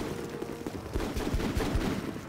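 Gunfire in the tactical shooter Full Spectrum Warrior: Ten Hammers, a rapid burst of several sharp, thumping shots in quick succession at moderate distance over background battle noise.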